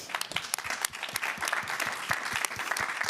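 Audience at a conference morning session claps, loud, dense and close, sharp individual claps scattered through a continuous patter lasting about three seconds.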